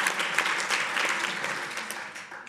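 Applause from an audience at a university science-communication final, a steady patter of many hands clapping that fades slightly toward the end.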